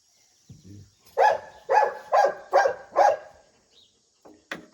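A dog barks five times in quick succession, loud and close, followed by a couple of softer yelps.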